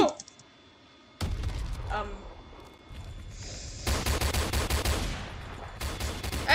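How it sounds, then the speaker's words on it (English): Video game gunfire in a criminal-versus-SWAT match: a sharp opening shot, then bursts of rapid close firing that come in clusters, with some speech mixed in. "let's keep sniping"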